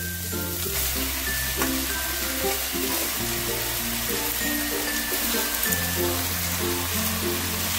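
Spinach and fenugreek leaves fry in a pan over a high flame, giving a steady, close crackling sizzle with soft scraping as they are stirred; a low musical tone hums underneath throughout.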